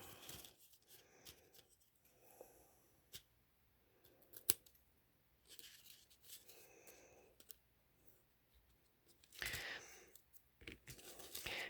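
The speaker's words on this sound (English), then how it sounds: "I'm just going to trim the ends so that it lines right up with the cardstock" Quiet scissors snip through stiff cardstock in a series of short cuts, close by, with soft handling rustles and no talking.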